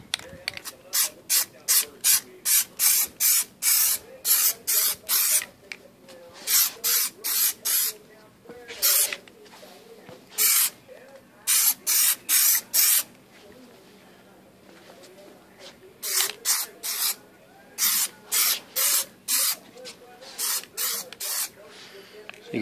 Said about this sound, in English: spray the first coat